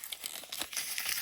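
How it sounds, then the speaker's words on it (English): A plastic blind bag from a Mr Beast Lab Swarms collectible tube is ripped open up close, giving a quick burst of crisp crinkling and tearing. "we rip this open and find out"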